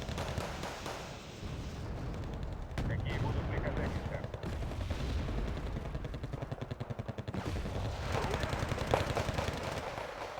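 Dense gunfire and explosions in the video game Wargame, with rapid machine-gun bursts and booming blasts layered over one another almost continuously, loud and busy throughout.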